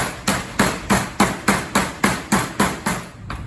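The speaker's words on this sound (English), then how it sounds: "My mallet. Give it a couple good whacks." A meat mallet pounds pork tenderloin in a test kitchen. About nine sharp, evenly spaced whacks land close and loud, roughly three per second, with no talking.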